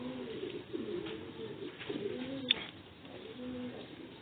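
A fine-necked pigeon coos in soft repeated low phrases, close and fairly quiet, with a brief sharp click midway and no talking.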